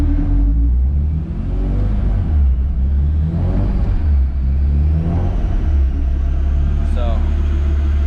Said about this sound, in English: Dyno's holding engine at 2500 RPM.